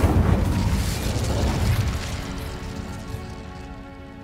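A fire spell going off in Hogwarts Legacy: a heavy booming burst that erupts at once, then rolls into a long crackling, rumbling decay that slowly fades without any speech.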